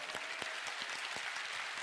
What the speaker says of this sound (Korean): 아이고 박수를.